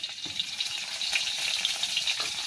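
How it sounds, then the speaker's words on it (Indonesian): Garlic frying in a pan, a steady close sizzle and crackle that runs continuously without talk. "goreng bawang dulu"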